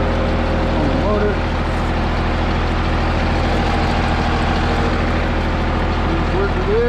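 A tractor engine running near 1600 RPM drives a three-point PTO logging winch, producing a loud, steady mechanical drone with a constant low hum. A voice speaks over it at times.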